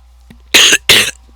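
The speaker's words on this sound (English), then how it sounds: "Do apologize for all of my coughing." Two sharp, loud coughs close by, one right after the other, with a short pause between and quiet before and after.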